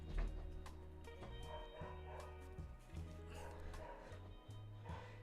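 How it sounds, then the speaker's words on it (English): A dog barks and yips indoors a few times at moderate distance, the sounds mixed with a low background hum and some speech. "Gonna hear the dog barking."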